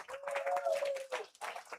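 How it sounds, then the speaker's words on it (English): Brief burst of audience clapping at a bowling event, the Baker Shootout at Al-Mar Lanes, with a sustained whistle or cheer running through the middle before the applause briefly dips and returns. "A big round of applause."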